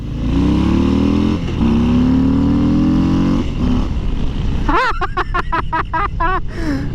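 A Harley-Davidson motorcycle revs hard and accelerates with its rear tire spinning loose, a loud sustained engine drone rising in pitch, then breaking into rapid stuttering bursts near the end.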